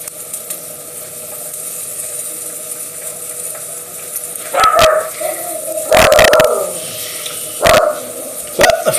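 Dogs barking on a television in another room of a home, heard over a steady background hum: a few sharp, loud barks and yips come in short clusters in the second half.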